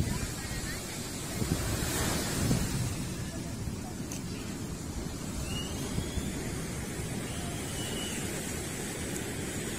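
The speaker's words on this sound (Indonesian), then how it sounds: "Kencang banget ombaknya" Strong ocean surf pounds a beach at Carita, a broad continuous roar of crashing waves mixed with wind buffeting the microphone, steady throughout with faint voices underneath.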